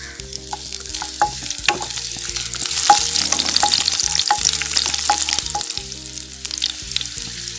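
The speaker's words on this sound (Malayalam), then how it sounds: "ഇതിലേക്ക് 2 പച്ചമുളക് ഇടാം." Two green chillies drop into hot coconut oil for a squid roast, setting off a continuous close sizzle and crackle, with scattered spatula scrapes and clinks against the pan throughout.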